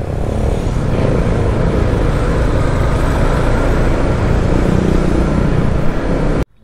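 Road traffic roars steadily with cars and a truck passing close by, a loud continuous engine and tire rumble heard from a motorcycle rider's position, with no talking.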